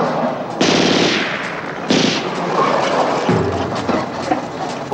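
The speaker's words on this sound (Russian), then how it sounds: "Стреляют со всех сторон." Bursts of rapid automatic gunfire and single shots ring out in a shootout from a 1972 Romanian detective film with Soviet dubbing, loud and close, with overlapping rattling volleys and no speech.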